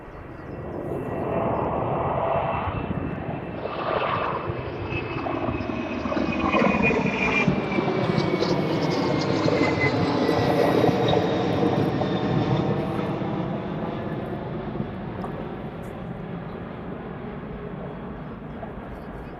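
A fixed-wing airliner powers up for takeoff at East Midlands Airport, its engine roar building from a distant whine to a loud thundering pass overhead with shifting tones, then slowly fading.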